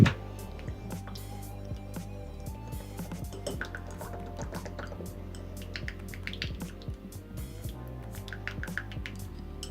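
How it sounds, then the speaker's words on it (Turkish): Pink and yellow glue poured into a container and stirred while making slime, heard as quiet wet drips, soft clinks and scraping under a faint background hum. "Şimdi evet tutkalımı dökmeye başladım"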